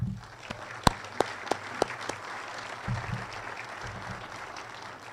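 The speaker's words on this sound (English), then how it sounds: "So I'd like to give those students a big round of applause." Scattered clapping from a crowd at a school district celebration, with a few sharp individual claps standing out over a soft, steady patter, fairly distant.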